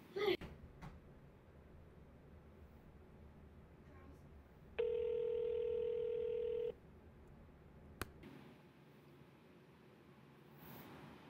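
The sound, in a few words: phone call dialing through a MacBook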